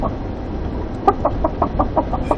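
A man vocally imitates a chicken, producing a steady run of rhythmic, evenly spaced clucks that starts a second in and continues to the end, close and clear.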